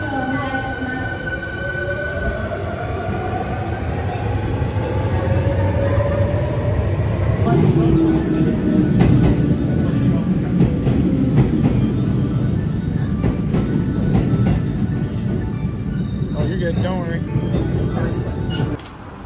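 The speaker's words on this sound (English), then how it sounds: "Bye, train." A train rolls past in Osaka, with a loud steady rumble and clattering wheels that build and continue for nearly twenty seconds, and voices are faintly audible beneath it.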